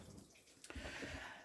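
Water runs steadily from a tap in a 2015 Lunar Lexon 470 caravan, a constant hiss of flow that starts softly and becomes fuller after a brief splash midway, with no talking.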